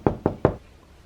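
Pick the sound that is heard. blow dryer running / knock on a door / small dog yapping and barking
knock on a door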